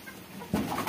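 Sonali chickens, large laying hens on a poultry farm in Barpeta, give one short, close cluck or coo that starts halfway through after a quiet stretch of room noise.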